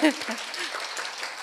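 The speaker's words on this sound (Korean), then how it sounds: "박수." Brief applause from an audience at a Korea University lecture-festival talk, a short patter of clapping that quickly follows a voice and stays fairly faint.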